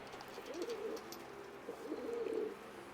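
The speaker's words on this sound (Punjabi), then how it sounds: "ਬਹੁਤ ਚੰਗਾ ਕਬੂਤਰ ਆ।" A pigeon coos softly twice, low throaty warbles with a pause between, heard faintly against a quiet background.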